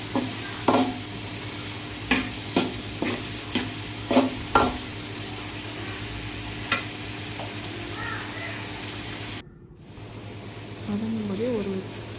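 Onions sautéing in a pan for chicken gravy: a steady sizzle with repeated sharp stirring scrapes of a spoon against the pan, close up, then a short pause before the frying resumes.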